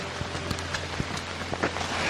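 Rain falls steadily in the bush, a soft broadband hiss with scattered drop taps close by, fairly faint and continuous.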